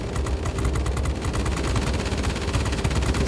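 A B-29C bomber's machine guns in World of Warplanes fire rapid, continuous bursts, dense and loud, for the whole stretch with no talk.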